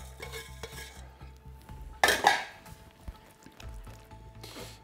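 Chocolate fondant batter being stirred with sugar in a bowl, a steady series of soft scraping strokes with one sharp clatter of the utensil midway, close and fairly quiet.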